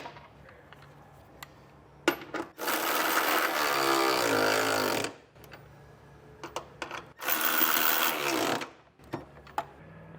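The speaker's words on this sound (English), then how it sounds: "we can come back with a 17mm size socket and snug everything down" A tool drives hitch bolts home with a 17mm socket while a Curt trailer hitch receiver goes onto a 2024 Kia, giving two loud sustained whirring bursts separated by short clicks and rattles of hardware.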